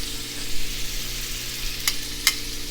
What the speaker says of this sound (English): We're going to start with a liberal amount of butter.